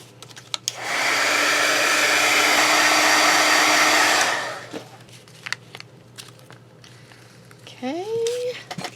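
A hair dryer blows steadily for about three and a half seconds while drying a dollar-store paper napkin embellishment on a lacy doily edge, then cuts off, leaving quiet handling noises and a brief voice.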